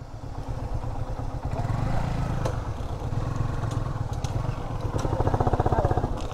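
Motorcycle near Kathmandu idling and putting along close by, a low chugging engine rhythm that grows more pronounced toward the end, with some clatter and faint background noise.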